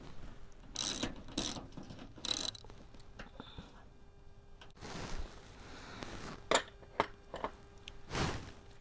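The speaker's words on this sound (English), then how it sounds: "I'm gonna remove this. It takes a 7mm socket." A socket wrench with a 7mm socket ratchets a bolt out from under the fender of a Sierra in short, clicking bursts, close and fairly quiet, with pauses between strokes.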